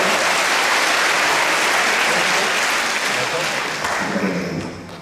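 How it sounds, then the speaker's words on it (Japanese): A festival concert crowd at a rock band's outdoor show gives sustained applause, a thick, loud roar of many hands clapping that continues evenly and eases off near the end, with some voices faintly blended in. "拍手お願いします"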